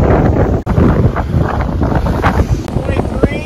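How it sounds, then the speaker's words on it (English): Strong wind of about 23 miles an hour roars across the microphone on a sailboat in a storm at sea with 12-foot waves, buffeting constantly with gusts and water noise. "it's blowing about 23 miles an hour"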